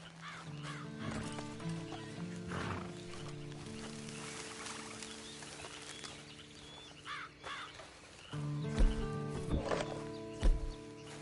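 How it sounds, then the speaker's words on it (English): Red Dead Redemption 2 Online game audio on PS4 with a horse snorting and whinnying, hooves clopping, crows cawing, and sustained music tones underneath; no one speaks. "And you better get on this horse."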